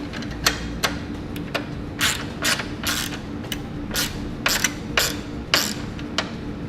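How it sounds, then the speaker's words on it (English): Socket wrench ratcheting in short bursts while bolts are tightened on a Blue Ox base plate kit for a 2009 Subaru Forester, with 3/8-inch hardware turned by a 9/16-inch socket; crisp clicking runs repeat over a low steady hum. "Now we're going to come back and we're going to tighten up all of our hardware."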